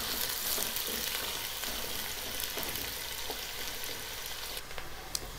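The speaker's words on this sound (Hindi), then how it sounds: "इसमें मैं प्याज ऐड करूंगी, इसे लाइट ब्राउन करेंगे" Onions fry to a light brown in a pan for chicken pulao, a steady close hiss of sizzling oil with occasional scrapes and taps as a spoon stirs them.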